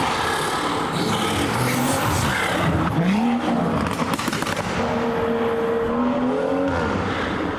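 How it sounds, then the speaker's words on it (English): A modified BMW M140i drives past at a beauty spot, its engine loud and close with rising and falling revs, crackling pops and bangs from the exhaust, and a sustained roar that shifts pitch through gear changes. "M140's coming in"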